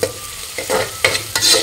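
Onion, tomato and curry leaves tempering in a pan for Malvani egg curry, with a steady close sizzle broken by a few louder stirring scrapes and surges, and no voices.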